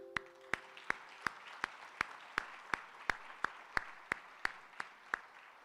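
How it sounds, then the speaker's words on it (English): Audience applause at an evening 2022 Teacher of the Year honors event, heard as a steady series of single sharp claps at an even, slow pace, fairly faint and distant over a low room hum. "let's give them a hand anyway"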